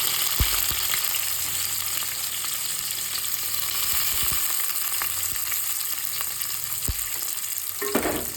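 Onions fry in a pan for brinjal curry, giving a constant bright sizzle throughout with occasional soft knocks of a spoon against the pan.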